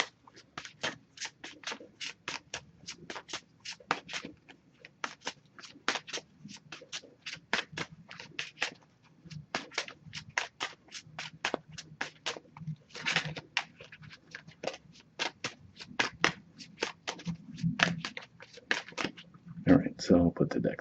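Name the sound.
shuffling a deck of oracle cards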